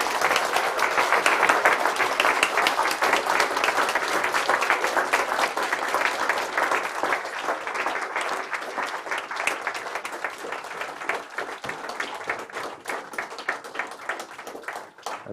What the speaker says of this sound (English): big round of applause for your new diplomates.